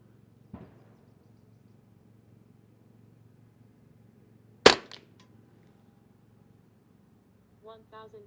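A single sharp rifle report from a semi-auto firing Eley or SK rimfire ammunition over a chronograph outdoors, a loud crack standing alone after a faint earlier click, with a brief murmur of voices afterward.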